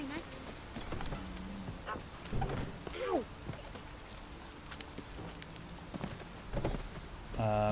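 Steady rain pattering in The Witcher 3 video game, a continuous wash with scattered louder thuds that may be hooves, carrying on beneath faint game music tones and brief voice snippets.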